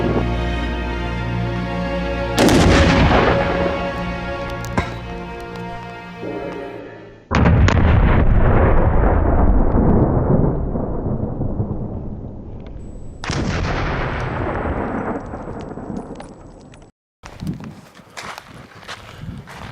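An HK416 rifle firing at a soccer ball outdoors, with several loud, sharp reports and long echoing tails, some shots in quick succession, followed by scuffing footsteps near the end.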